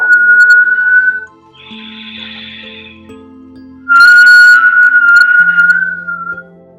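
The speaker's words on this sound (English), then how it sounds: "Whistling is an ancient technology that can take your psyche in a really positive direction." A person whistles during a Kundalini yoga kriya, a clear solo tune of sustained tones with a few loud high notes and softer lower stretches, close and alone.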